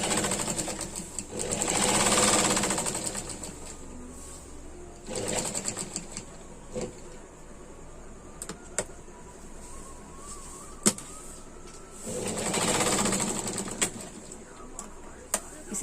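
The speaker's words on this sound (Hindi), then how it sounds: "तो यहाँ बिल्कुल किनारे में सिलाई लगा लेंगे हम।" A sewing machine stitches along the hem edge of a lehenga in two loud whirring bursts, separated by a quieter pause filled with small clicks and handling of the fabric.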